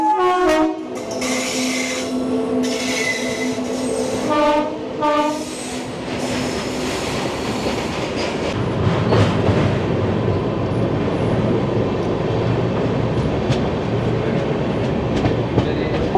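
The Kanchankanya Express horn blasts loudly several times on a single electric track between Siliguri and Alipurduar, followed by a steady, loud rumble and clatter of the train running close by.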